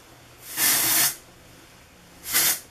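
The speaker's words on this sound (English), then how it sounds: "all I do literally is just shake it and spray it my whole hairline" Two short hissing bursts of an aerosol dry texture spray on hair, the first longer than the second, close and fairly loud with quiet between.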